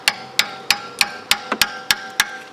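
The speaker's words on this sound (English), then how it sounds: "since these are so corroded, you're going to want to hammer it down on." Hammer blows drive a corroded IDF drop plate onto a Mk4 GTI, nine sharp metallic strikes in a steady rhythm, close and loud with ringing tones and no talk.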